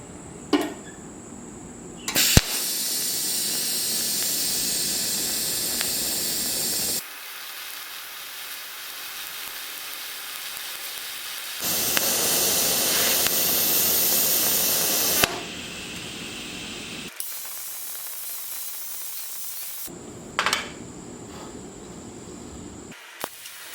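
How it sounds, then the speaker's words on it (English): A YESWelder TIG 250P AC/DC welder runs a TIG arc on chamfered steel parts for a 3rd Gen 4Runner roof rack, with several bursts of close, crackling hiss that start and stop abruptly, separated by quieter pauses. "I'm using the TIG 250P AC/DC welder from YESWelder"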